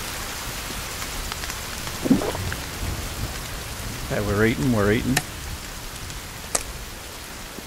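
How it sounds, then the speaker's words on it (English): Loud, steady rain and rumbling thunderstorm noise from the video game The Forest fill the whole stretch, while voices talk briefly over it. "That rain is really loud."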